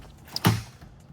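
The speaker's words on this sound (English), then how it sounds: "let's crack the door open so you can check out the inside of this thing" The door of a Porsche 987 Boxster Spyder opens with one short, close latch click followed by a brief creak, alone in a quiet space.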